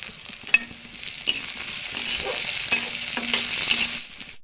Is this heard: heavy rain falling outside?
no